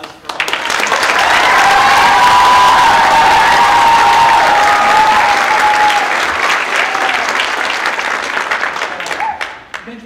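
An audience at a choir concert bursts into loud, sustained applause for a harp-imitating performer, clapping swelling quickly and holding steady for several seconds before tapering off near the end.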